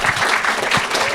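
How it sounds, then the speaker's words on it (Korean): Audience applause at a Korean ESG forum, a dense, steady patter of many clapping hands filling the room at even loudness throughout. "이분들을 위해서 박수 한번 크게 쳐주시기 바랍니다"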